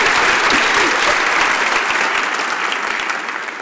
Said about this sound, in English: Begin clapping.